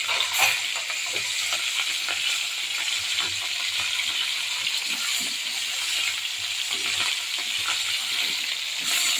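Oil sizzles steadily in a covered pan while a bottle gourd and tomato stir-fry cooks, a constant close crackling hiss with small pops and no talk.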